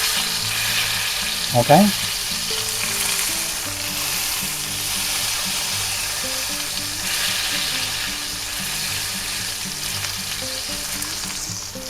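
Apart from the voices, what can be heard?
salmon fillet frying and sizzling in a pan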